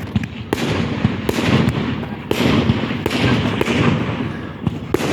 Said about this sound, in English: Are the fireworks high enough to reach the plane?